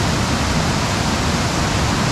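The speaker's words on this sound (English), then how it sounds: "This is it for Gooseberry Falls." Gooseberry Falls on Minnesota's North Shore pours in a constant, loud, broadband roar of falling water, steady and unbroken with no other sounds.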